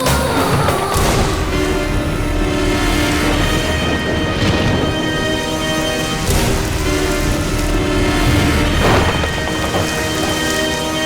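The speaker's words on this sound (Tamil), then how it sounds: "மழை வேற பெய்யுது" Heavy nighttime rain pours steadily outside, a loud dense hiss with spattering drops and a few deep thunder rumbles rolling through.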